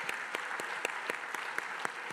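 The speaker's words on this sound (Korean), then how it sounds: "우리 축복의 박수 또 감사의 박수 한번 할까요?" Church congregation at a Saturday dawn prayer service claps in blessing and thanks, a steady rhythm of about nine crisp, evenly spaced claps in unison, moderately loud and close, with no talk over it.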